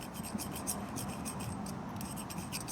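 A grooved, worn brake rotor from a 20-year-old Yamaha Banshee quad ridden in sand, rubbed by hand, gives a steady close rasping scrape with rhythmic strokes throughout.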